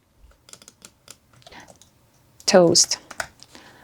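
Typing on a computer keyboard gives light, scattered clicks in short irregular runs, close and fairly quiet, while a person talks over it partway through.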